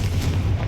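A Confringo blasting spell explodes in the video game Hogwarts Legacy, a short, heavy, low rumbling boom that stays dense and loud for its brief span.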